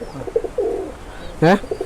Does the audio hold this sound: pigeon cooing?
yes